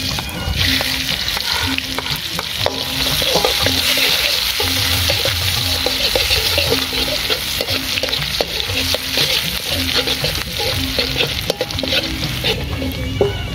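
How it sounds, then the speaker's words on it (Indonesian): Shallots and garlic sizzling in hot oil for a Sundanese dish, a constant dense crackle and hiss with the occasional scrape of stirring, loud and close, with no talking. "ini bawang merah dan sama bawang putih kita goreng dulu ya sobat"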